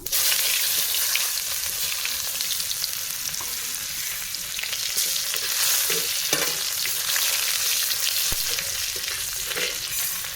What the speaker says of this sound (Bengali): তেল কিন্তু আমার গরম হয়ে গেছে তো আমি এর ভিতরে দিয়ে দেবো একটু জিরে জিরেটা দেওয়ার পরে দিয়ে দেবো একটু পেঁয়াজ কুচি